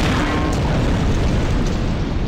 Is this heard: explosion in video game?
yes